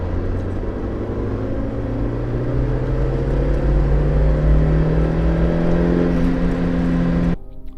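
Toyota AE86 Corolla GT Twin Cam engine revving high, a loud sustained drone with a steadily rising pitch over several seconds, then cutting off sharply near the end; no talking.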